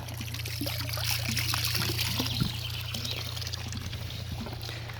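Cold fountain water running at a picnic area in Gediz, Kütahya, a steady close trickling and splashing over a low constant hum, with faint voices in the background.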